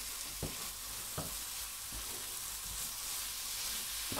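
Prawns sizzle steadily in spicy masala on a hot tawa, a continuous close frying hiss broken by several soft scraping stirs of a spatula.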